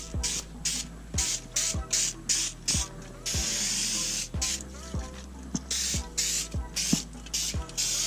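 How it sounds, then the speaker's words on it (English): Repeated short bursts of spray from a bottle of Citral degreaser lightly misting a bike sprocket and axle, a steady rhythm of puffs close by with a faint background hum and no talking. "Just lightly spray everything."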